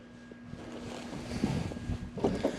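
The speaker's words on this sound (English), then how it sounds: "it's a bit breezy today" Breezy wind buffets a lapel microphone during an outdoor ride, a steady rumbling roar that swells and gusts louder toward the end.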